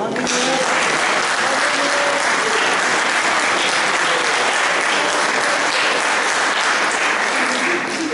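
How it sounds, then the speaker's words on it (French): Steady crowd applause at a Saint Nicolas pardon festival, given for two newly baptized people, dense and continuous from start to finish with some voices faintly beneath the clapping. "Et nous pouvons aussi applaudir les deux baptisés."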